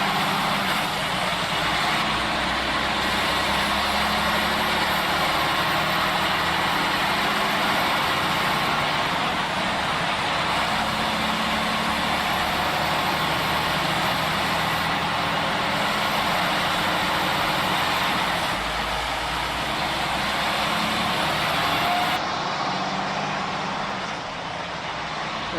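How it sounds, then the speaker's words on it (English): A sleeper truck engine idles in Farming Simulator 19 as a steady, loud diesel rumble that holds level throughout, with no voices over it. "The sounds are the same. That's the sleeper truck"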